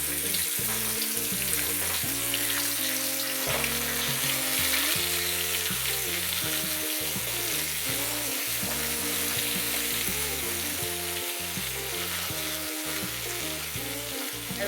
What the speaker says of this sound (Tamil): நம்ம மீனை ஒன்று போட்டு பொரிச்சு எடுத்துக்குவோம்.